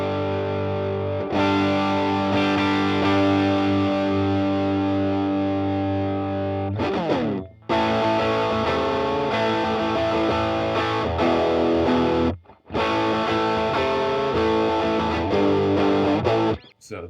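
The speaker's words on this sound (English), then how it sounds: "Up next is the Way Huge Green Rhino. Let's just jump right into it. Do a sound sample." Electric guitar played through a Way Huge Green Rhino overdrive pedal, a Tube Screamer–style drive: loud, sustained distorted chords ring out alone, broken by a few brief pauses between phrases.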